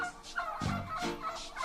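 Turkeys gobbling from the back of a truck, a loose flock giving several rippling gobbles in quick bursts, moderately close and fairly loud with no talking over them.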